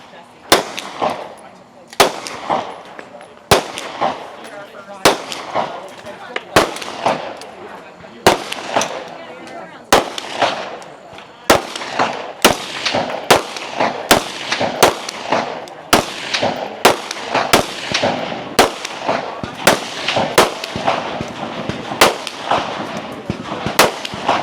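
Pistol and rifle shots at a women's tactical shooting competition stage, a long string of sharp, loud reports at uneven intervals with faster runs toward the end, while a commentator talks throughout.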